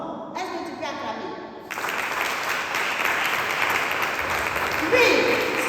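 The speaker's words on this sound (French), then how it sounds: "Est-ce que tu peux acclamer?" A church congregation breaks into applause, a dense broadband clapping wash that swells after a brief lead-in of voices and music and holds steady, loud and close, to the end.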